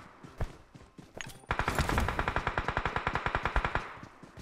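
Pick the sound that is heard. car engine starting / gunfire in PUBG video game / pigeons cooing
gunfire in PUBG video game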